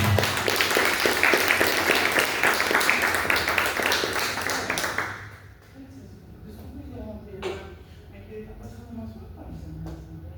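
A church congregation breaks into loud, dense applause for about five seconds, many hands clapping together before it fades into quieter murmuring and shuffling.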